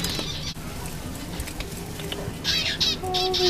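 Pet birds chirp and twitter in short, bright bursts near the end, with soft flutters and scratchy movement underneath in an indoor room.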